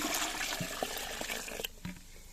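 Warm water splashes and trickles into a 10-litre bucket of soaked bread rusks, a busy watery rush with scattered drips and knocks, easing off toward the end.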